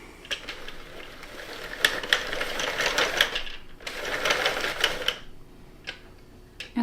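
A Sentro plastic hand-crank knitting machine knits waste yarn, a close clattering ratchet of needles and gears in two cranking bursts of a few seconds each, separated by brief pauses, with scattered clicks afterward.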